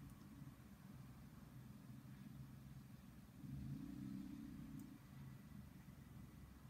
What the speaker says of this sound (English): a little car rev there.